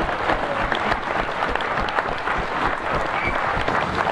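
Concert audience at a live rock show in a Helsinki hall gives sustained, dense applause, a steady roar of many hands clapping heard throughout without talk on top.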